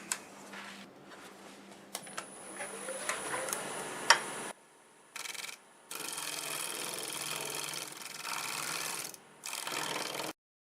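Negative rake scraper working a cherry plum bowl spinning on a wood lathe: quiet, intermittent broadband scraping passes broken by short pauses, with a few light ticks and clicks.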